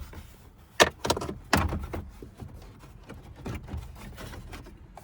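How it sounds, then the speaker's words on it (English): Plastic pressure clips pop loose from the dash panel of a 2007-2018 Jeep Wrangler JK in a series of sharp, close snaps and cracks, with softer rustling and handling in between. "just start popping the pressure clips loose"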